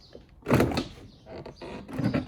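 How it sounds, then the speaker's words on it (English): An interior door panel on a 2013 Ford F150 is lifted straight up off the door, making brief plastic scrapes and a rustling clatter in two bursts, close up and moderately loud. "take the door panel and just lift it straight up"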